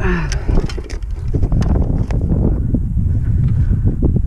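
Wind buffets the microphone at an airfield during a paramotor flight, a loud low rumbling roar that holds steady with gusty fluctuations, joined by a few faint clicks and rustles.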